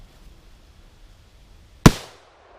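A single loud gunshot goes off at a shooting range with machine guns, Uzis and AKs, a sharp close crack with a short decaying tail after quiet background.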